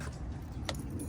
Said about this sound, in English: Let me pick my keys up.